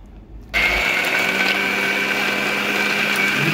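A kitchen mixer grinder kicks on after a brief quiet moment and blends muskmelon sharbat with ice cubes, cashews and almonds at a loud, steady whir until the end.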